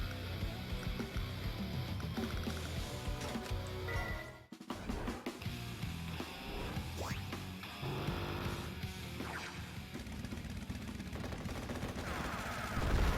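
In the Advance Wars: Days of Ruin video game, a tank attacks an artillery unit with dense, continuous rattling gunfire and rumble. There is a brief drop just before the midpoint, then the barrage continues. No one speaks.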